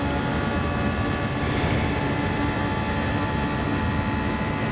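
A Superformula racing car engine in Gran Turismo 7 at Le Mans drones loud and constant under heavy revs, a dense, unbroken roar with no talk.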